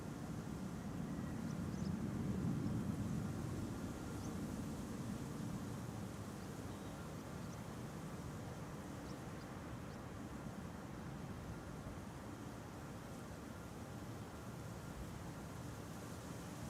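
A TUI airliner takes off from Schiphol's Kaagbaan runway 24 bound for Curaçao, heard as a faint, distant, steady roar with a slightly fuller rumble early on that then holds level.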